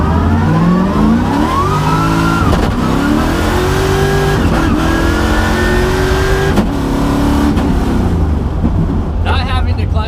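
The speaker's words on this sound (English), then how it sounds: "So now I'll run you through the gears using no clutch." A BMW E36 fitted with a dog box accelerates hard and shifts up through the gears without the clutch. The loud engine note climbs, then drops sharply at each quick shift, with the continuous roar of the cabin throughout.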